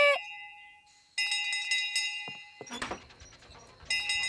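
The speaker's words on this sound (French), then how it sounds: "Nounou Prune sonne la cloche tous les soirs" A bright bell rings out in repeated clangs, each tone sustaining and decaying, with a clattering jumble of knocks in between, in the cartoon Ben and Holly's Little Kingdom.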